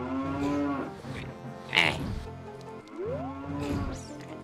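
Cow lowing in a Zelda video game: several long, drawn-out moos with rising and falling pitch, loud and close, separated by short gaps, with a brief higher squeal in the middle.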